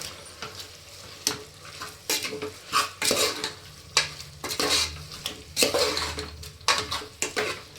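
Mutton kheema curry sizzling in a metal pan as it is stirred after salt and chili powder go in, with repeated scraping and clattering of a spoon against the pan and no talking.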